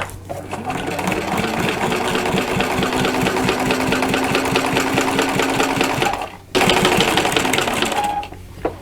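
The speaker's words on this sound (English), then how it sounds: "now I'm going to top stitch close to that fold." Sewing machine running steadily while top stitching close to the fold of a zippered boxed pouch, a rapid even needle clatter that stops briefly near the end and then resumes.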